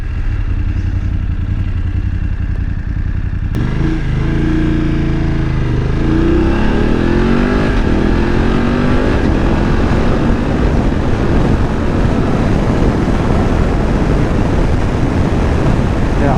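A BMW F850GS Adventure motorcycle filters through traffic, its engine droning loudly and close with rising and falling revs, under constant wind rush and road noise.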